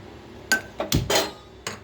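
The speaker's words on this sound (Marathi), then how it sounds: "हे बघा मी आता कढई ठेवली आहे" A metal kadhai is set down on a kitchen stove while preparing cabbage sabzi, giving a few sharp clanks and knocks spread over two seconds, close and fairly loud with quiet gaps between them.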